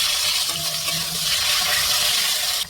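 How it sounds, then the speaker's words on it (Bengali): Potatoes fry in a pan of oil left over from frying pangas fish, a steady broad sizzle that holds evenly and then cuts off at the end, with no talking. "মাছ ভাজার তেলে ভেজে রাখা আলুগুলো ভেজে নিচ্ছি"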